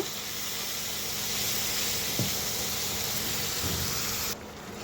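Spice masala fries in hot oil for an egg curry (dim bhuna) with a continuous close hiss and sizzle and a couple of faint stirring knocks. The sound drops abruptly near the end.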